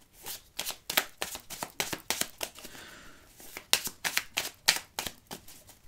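Tarot cards being shuffled by hand, a fast run of crisp riffling bursts with a short pause midway, close and clear with no talking.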